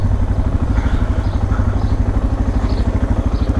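A Suzuki DR650 dual-sport motorcycle engine runs steadily up close, a loud, rough, pulsing single-cylinder thump with clattery texture throughout, as if struggling.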